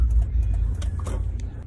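A car pulling up to a dealership makes a brief, low engine hum close by, with a few faint knocks over it.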